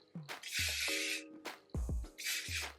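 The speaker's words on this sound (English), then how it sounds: "we're going to take some hairspray" Several bursts of hairspray, hissing in short blasts with brief pauses between, close by, mixed with small handling sounds.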